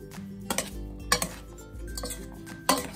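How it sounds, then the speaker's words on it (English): A spoon stirring food in a metal pot, with several sharp clinks and scrapes against the sides spaced irregularly, close and without talk. "I'm gonna give this a good stir."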